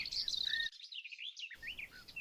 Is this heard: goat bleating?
no